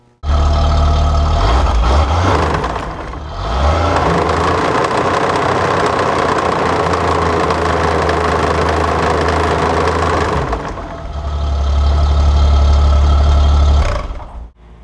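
A snowmobile engine runs close and loud with its track spinning, a steady heavy drone that softens and rises again, then cuts off at the end.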